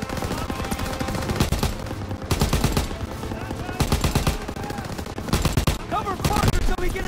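Heavy machine gun fire in Call of Duty: WWII pounds in repeated loud bursts with short pauses, surrounded by battlefield din and shouted voices.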